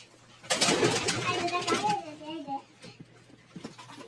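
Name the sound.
lakha pigeon cooing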